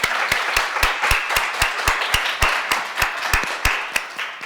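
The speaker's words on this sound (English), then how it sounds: "we should give a round of applause to before we've even started" Steady, rhythmic hand clapping from an audience at an International Women's Day 2023 panel event: a run of sharp, evenly spaced claps continues throughout without pause.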